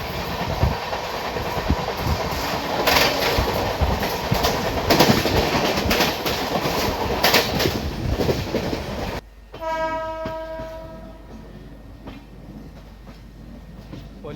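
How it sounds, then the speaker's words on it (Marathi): Hubli–Dadar Central Express, train number 17317, rushing past during a crossing with a loud, continuous rumble and clatter for about nine seconds. It then gives way to a quieter, steadier background with faint tonal hums. "आता गाडी आली आहे गाडी number 17317 Hubli Dadar central express आणि त्याच्यासोबत आता क्रॉसिंग होत आहे"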